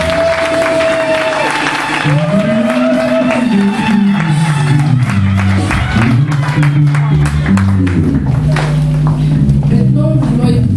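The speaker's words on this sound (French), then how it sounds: "On acclame fort le Seigneur." A church congregation at a women's day service applauds and cheers loudly, with sustained clapping and shouts mixed with music and voices throughout.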